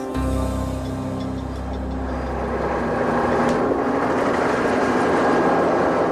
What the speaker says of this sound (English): State police helicopter drops it.